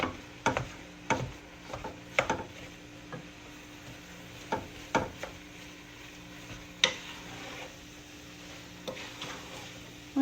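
Meat and onions cooking in a pan for Syrian kibbeh, with a soft, low sizzle and intermittent sharp taps and scrapes of a spoon stirring against the pan. The stirring is close, irregular and moderately quiet, with no talking.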